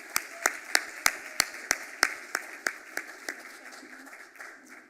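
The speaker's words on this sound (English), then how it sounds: "One final round of applause." A final round of audience applause at an entrepreneur showcase: a handful of sharp, evenly spaced claps ring out close and loud, then thin into softer scattered clapping that fades over the last seconds.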